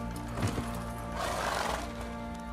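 A horse in The Witcher 3 lets out a clear whinny partway through, over a steady in-game ambient bed with faint hoof movement, and the game world carries on around it.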